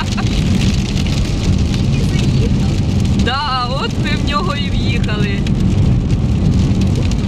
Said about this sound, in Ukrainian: Тут прийшов дощ та ще й гарний.